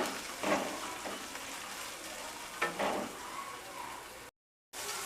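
Tomato pieces sizzle and fry in an oil-filled pan for a Chettinad aviyal kurma, a steady close hiss with a few louder stirring bursts, broken briefly by a short gap of silence.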